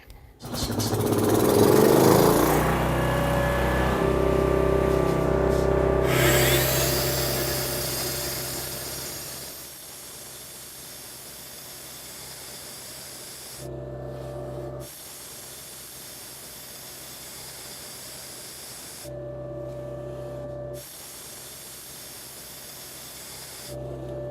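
A demo saw cuts a series of lines for a round hole, its loud hissing, whining roar running for several seconds, then dropping to a steady lower idle broken by brief gaps.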